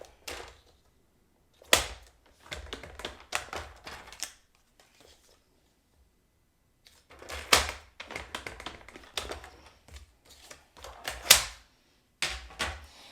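Scoring a folded card at half-inch marks on both sides for a bendi fold card, heard as bursts of crisp tapping and scraping strokes in several clusters separated by quiet gaps, close and fairly loud with no talk.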